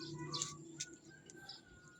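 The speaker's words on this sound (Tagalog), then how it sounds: "huni ng ibon" Faint bird chirps come in short, scattered bursts outdoors near a garden with papaya and calamansi plants, heard softly over a quiet background hum.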